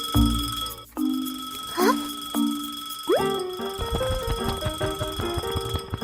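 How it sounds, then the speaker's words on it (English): A cartoon alarm clock rings loudly on a table, a run of bright ringing and bell-like dings and boings with a quick, jumpy rhythm. "Suddenly, the clock starts ringing loudly."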